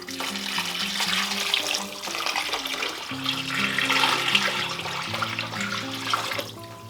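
Water poured into a cooking pot for cornbread prep that already holds chopped onion, a steady rushing stream lasting several seconds before tapering off, with no talking.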